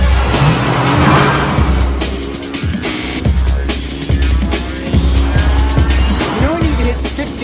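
A car engine revs hard under acceleration while tires squeal and skid, loud and close, with the whine rising and falling over several seconds.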